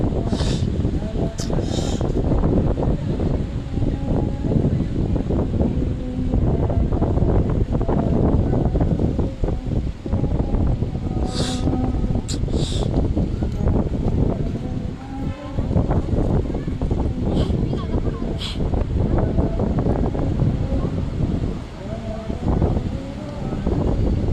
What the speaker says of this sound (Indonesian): jadi sekarang ini agak berisik ya Tribuners, karena angin di sini cukup kencang ya Tribuners